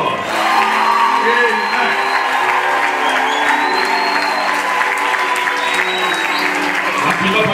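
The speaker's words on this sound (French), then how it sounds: "Comme c'est beau, applaudissez encore." Applause from wedding guests celebrating the newly married couple, with continuous close clapping and a few scattered whoops and shouts rising above it.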